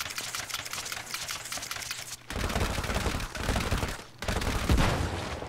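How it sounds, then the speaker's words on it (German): Weapons firing in the co-op game It Takes Two, rapid rattling volleys that run almost nonstop, loud and dense, broken by two brief pauses. "ich kann mit den Dingern schießen"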